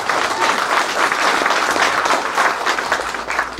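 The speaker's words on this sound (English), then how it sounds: "I want to give a round of applause for each and every one of the families that are here supporting their" An audience at a veterans' ceremony gives a steady, full round of applause for the attending families, many hands clapping close and continuously throughout.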